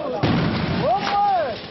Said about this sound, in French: Quelques instants plus tard, une seconde explosion.